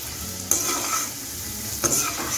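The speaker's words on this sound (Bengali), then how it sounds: "বাকি চিড়াগুলো ভেজে নিচ্ছি।" Flattened rice (chira) fries in hot oil in a pan, a steady close sizzle with two sharp stirring scrapes, no voices.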